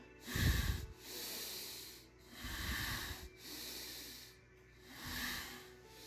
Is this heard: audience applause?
no